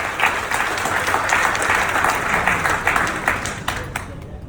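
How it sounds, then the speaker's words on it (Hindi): Loud, steady applause from a business-meeting audience for their uplines, dense clapping filling the room with some voices mixed in, continuing throughout without a break. "अपने अपने अपलाइन के लिए एक बार जोरदार ताली"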